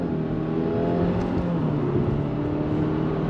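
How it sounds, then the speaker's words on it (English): A 2023 Subaru WRX GT engine pulls steadily in first gear on throttle, its revving tone climbing smoothly and loud throughout, with no talking. "But first gear, on throttle, here we go."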